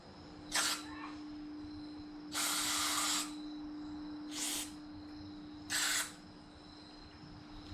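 Four short bursts of carburetor cleaner aerosol spray hiss into a rototiller carburetor, separated by pauses, one longer than the others, over a quiet background with a faint steady hum.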